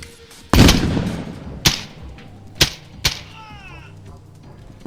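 A scoped, silenced M16 firing in the video game ExfilZone: one heavy report followed by three sharper single shots spaced about a second apart, with a thin whistling tail after the last.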